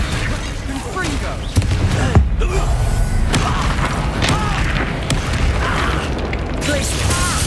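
The Confringo explosive spell in Hogwarts Legacy lands as deep booming blasts and thuds amid busy combat clatter and mechanical effects, with vocal sounds mixed into the fight.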